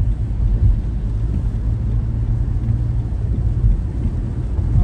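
Steady rain heard from inside a car on a highway, a continuous low rumbling wash of drops and road noise with no talking.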